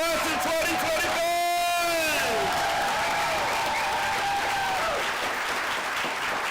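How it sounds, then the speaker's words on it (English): A crowd at a baccalaureate ceremony applauds the graduating class of 2025, steady massed clapping mixed with cheers and a rising whoop, continuing loudly throughout. "join me in one last round of applause for our soon-to-be graduates, the members of the class of 2025"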